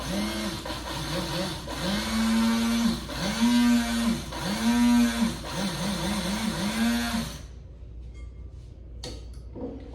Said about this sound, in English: put it in my grinder